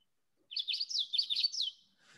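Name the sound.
common yellowthroat song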